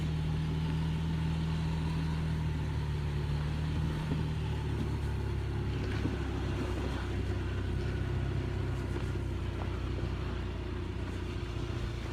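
Small Taiwanese work truck in the mountains of Alishan, Chiayi County, with a steady low engine rumble rolling past close by, its drone shifting in pitch as it passes, over constant road and ambient noise and no talk.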